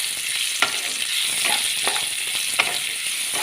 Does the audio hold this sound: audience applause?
no